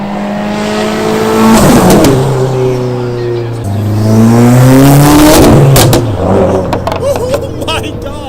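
A Subaru fitted with an ETS exhaust revs hard and drives by, its loud engine note climbing and falling through repeated rises as it passes close, with voices faintly underneath.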